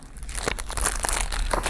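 Takeaway paper bags from a fried chicken restaurant crinkle and rustle close by in a steady handling sequence of soft crunches, with no talk.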